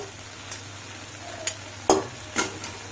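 Cooked potato, bitter gourd and tomato are mashed in a pan over a faint sizzle, with a few distinct scraping and tapping strokes of a utensil spread across the clip.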